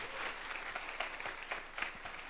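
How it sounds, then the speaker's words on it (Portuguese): An audience at a school innovation talk gives a round of applause for a colleague, fairly quiet clapping heard from a distance with scattered louder claps. "Pedir uma salva de palmas para o irmão Evilásio aí"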